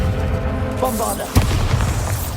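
In Hogwarts Legacy, a Bombarda blasting spell goes off as one short, sharp booming burst amid the game's rumbling background, with a voice calling out just before it.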